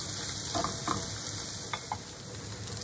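Onions sweat over medium heat in a pan with salt and pepper, a soft, continuous sizzle with a few light stirring clicks and scrapes, no voices.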